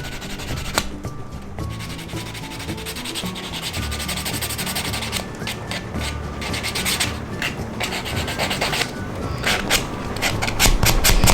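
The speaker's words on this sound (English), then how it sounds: "we are basically going to buff the top of the nails" Fingernails are buffed with the rough side of a nail buffer, a close, continuous rasping rub in quick repeated strokes that grow a little louder toward the end.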